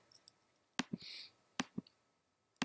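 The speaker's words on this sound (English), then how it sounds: "So just keep clicking around" Sharp mouse clicks, a few spaced apart and some in quick pairs, with a brief soft hiss between them; no talking.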